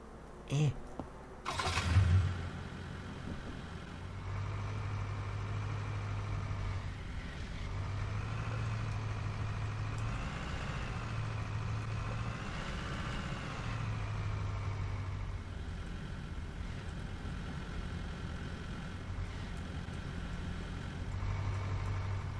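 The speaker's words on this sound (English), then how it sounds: "Now we'll just get our truck out of the way." A truck engine in the game Car Dealer Simulator starts with a brief burst, then settles into a steady low idle that hums continuously with a few gentle swells, fairly loud and constant.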